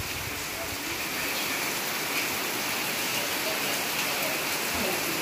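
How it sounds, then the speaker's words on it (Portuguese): Heavy rain pouring steadily at a country property, a dense, even hiss of drops on surfaces, close and continuous with no pauses. "A chuva agora pegou mesmo aqui, ó."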